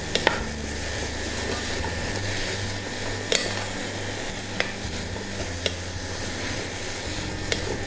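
Paprika and bitter gourd stir-fry over high heat, a bright continuous sizzle broken by occasional sharp clacks of a utensil against the pan.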